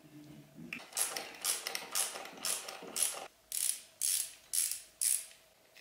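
An 8 mm wrench loosens a screw on a brake pedal, giving about ten quick ratcheting strokes in a steady rhythm, close and clear, with no talk.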